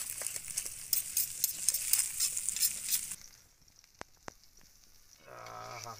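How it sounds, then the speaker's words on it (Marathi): Stuffed pomfret fish frying in hot oil, with a bright crackling sizzle up close for about three seconds, then quieter sporadic pops and a brief stirring or scraping sound. "तेल पण चांगला तापला आहे आणि आपला पापलेट चरचरूक लागला."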